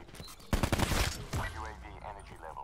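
Video game shooter gunfire from a newly added DLC gun, a quick burst of rapid loud shots followed by fainter crackling echoes, with a voice talking over it.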